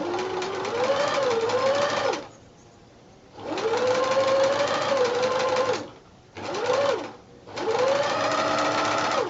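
Domestic sewing machine stitching fabric for a handmade fireplace project, a steady whirring drone running in three bursts separated by short pauses, close and loud, with no voice.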